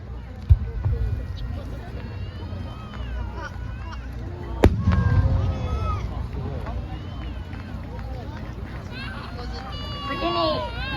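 Fireworks display at the Inagawa fireworks festival in Japan, a sharp burst bang followed by crackling and distant rumbling, with an announcer talking throughout.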